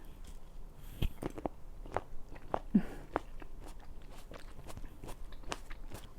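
Close, crisp bites and wet crunchy chewing of freshly washed fruit, repeated in an uneven rhythm with soft mouth sounds between bites and no talking.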